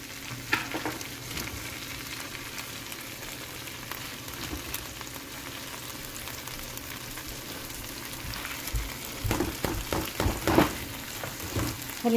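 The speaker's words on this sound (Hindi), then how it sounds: "फलियाँ डालने के बाद इनको थोड़ा सा ऑयल में मैं फ्राई कर लूँगी" Guar beans (cluster beans) frying in a little oil, a steady close crackling sizzle with occasional louder stirring scrapes and spatters near the end, no voices.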